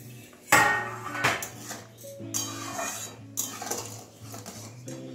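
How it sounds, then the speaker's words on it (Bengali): A metal lid lifted off a pot of boiling lentil dal with water lilies, sharp clanks and a clattering scrape up close, followed by a low steady bubbling hum beneath further faint knocks. "ঢাকনাটা তুলে"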